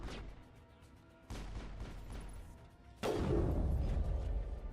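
Gunfire in the video game Mass Effect 1 comes as booming bursts, with a soft stretch, a heavier volley, and a loud sustained barrage at the end, and no speech.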